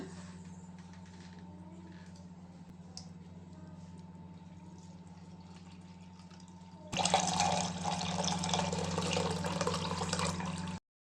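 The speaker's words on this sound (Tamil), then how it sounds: "இந்த தேங்காய் பாலை வந்து வடிகட்டி எடுக்க போகிறோம்" Fresh coconut milk is strained, with a faint trickle under a low steady hum at first, then a louder continuous rush of pouring liquid for the last few seconds.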